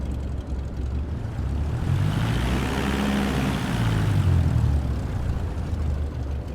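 A Cessna light aircraft takes off in a flight simulator game, its propeller engine droning steadily and swelling as it powers down the runway, loud and close with no talk.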